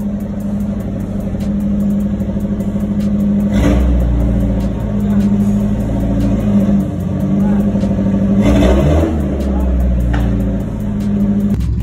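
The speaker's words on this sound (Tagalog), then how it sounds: "ito nga pala yung tunog ng muffler" A Tamiya owner-type jeep engine with new headers and muffler rumbles steadily, revving up twice with a throaty exhaust note, loud and close, with a voice talking over it.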